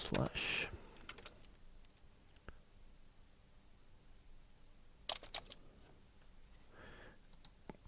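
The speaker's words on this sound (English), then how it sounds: "I'm going to type comma dash dot slash" Typing on a computer keyboard: scattered individual key clicks at close range, alone in a quiet room with a few louder taps near the start and middle.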